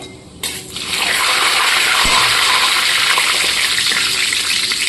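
Onion and green chilli hit hot mustard oil in a pan, already seasoned with nigella seeds and dried chilli, setting off a loud, steady hiss of frying that starts abruptly and keeps going with no talking.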